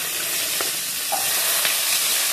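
Garlic, green chillies and onion sauté in a pan for chutney, giving a steady, close sizzle broken by a few brief stirring scrapes, with no voices.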